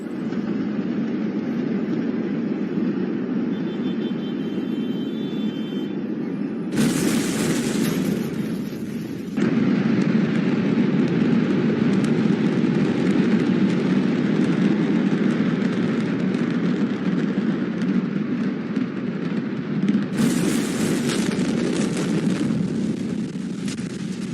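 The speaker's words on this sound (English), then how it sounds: "I see a very huge explosion." A huge explosion heard as a prolonged, loud, dense roar and rumble lasting over twenty seconds, with abrupt bursts of harsher blast noise partway through and near the end, no speech.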